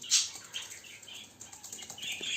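Budgerigars in an aviary, among them a blue male and a yellow bird, make soft chirps and brief wing flutters, faint and scattered over a hushed background.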